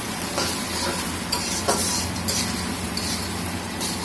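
Onion with ginger-garlic paste frying and being stirred in a pan for pulao, a steady close sizzle with a few soft scraping and clinking stir strokes throughout.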